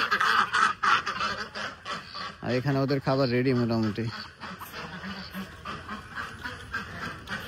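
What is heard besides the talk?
ducks quacking at a duck farm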